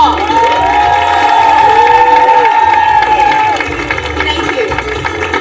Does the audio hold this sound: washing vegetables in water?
no